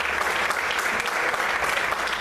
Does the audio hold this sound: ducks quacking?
no